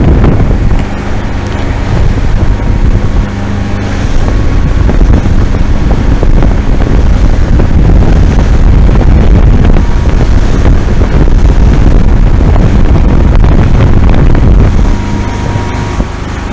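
A fishing boat motors across choppy Lake Erie toward port, its engine drone and hull slap steady and loud throughout, heavily buffeted by gusting wind on the microphone.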